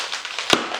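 A crisp packet of Thai cheese crisps bursts open with one sharp, loud pop over a faint rustling background, brief and close.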